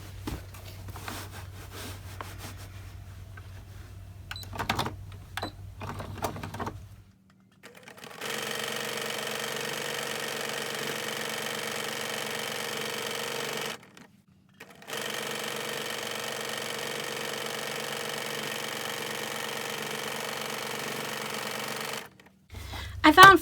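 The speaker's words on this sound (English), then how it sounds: "I found for me also with the free motion quilting that I used to drive my sewing machine." A sewing machine runs steadily during free-motion quilting on fabric, a continuous mechanical hum in two long stretches with a brief pause between, after softer handling noises at the start.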